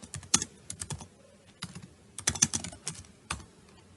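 Close, crisp keystrokes on a computer keyboard tap out a short command in a terminal, arriving in two quick bursts separated by a brief pause, with no voice.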